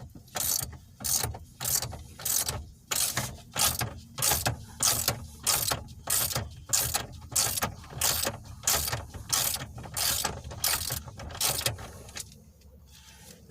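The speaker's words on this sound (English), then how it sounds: "usually you can use a spark plug socket, 13/16 spark plug socket," A ratchet fitted with a 13/16 spark plug socket removes the steering wheel nut on a Chevy Cobalt. Close, loud, steady clicking comes in about a dozen regular bursts, then stops near the end.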